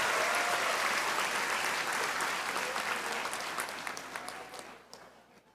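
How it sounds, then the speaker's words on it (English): Applause from a commencement audience at a college graduation ceremony, a steady crowd of clapping that swells at once and then gradually thins and fades out over several seconds. "Ladies and gentlemen, a round of applause for Maynard Austria"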